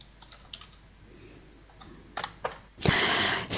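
Someone types on a computer keyboard, a few soft scattered keystrokes and then a louder, denser burst of clicking near the end in a quiet room.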